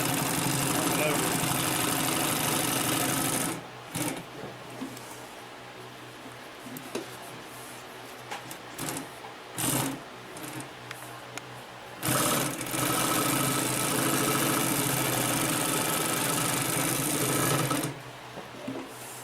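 A Consew P1255RB industrial sewing machine stitches through thick canvas or upholstery layers in loud, rapid mechanical bursts with short pauses between runs, a person speaking in the gaps.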